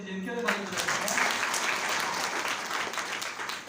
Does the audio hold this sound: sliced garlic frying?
no